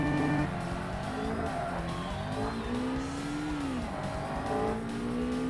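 Engine of a Lotus Elise race car in Forza Motorsport on the original Xbox, revving up and down through gear changes, loud and close, with a faint tire squeal.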